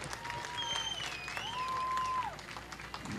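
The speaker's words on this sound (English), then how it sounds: "Race fans, give that driver a round of applause." Race fans in the grandstands at Creek County Speedway applaud a sprint car driver after he climbs from his machine, a steady wash of clapping and crowd noise, with tonal whistles or horns sliding through the middle.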